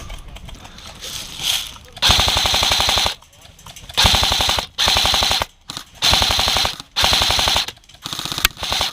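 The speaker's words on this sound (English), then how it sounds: "You see the person shooting here?" Airsoft guns fire in rapid, repeated volleys during an outdoor airsoft game, loud bursts of fast popping broken by short gaps, with faint activity between them.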